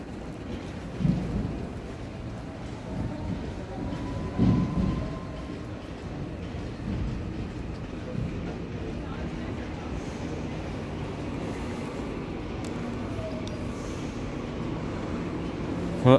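A ten-car EMU900 electric multiple unit train departs at Shulin station on Taiwan's Yilan line, producing a steady, broad rumble with a few louder surges early on, then a sustained drone.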